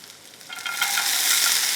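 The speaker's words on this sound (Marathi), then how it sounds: "हिरवी मिरची लसूण ह्या छान परतून घ्यायचं" Green chillies, garlic and curry leaves hit hot oil in a pan and sizzle, the hiss swelling quickly into a loud, bright, continuous fry close by.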